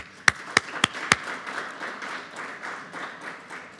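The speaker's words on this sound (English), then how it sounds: "So let's give them another round of applause." An audience applauds surgeons and fellows after a surgical session. Four loud, crisp claps ring out close by, then a softer, steady wash of crowd clapping carries on to the end.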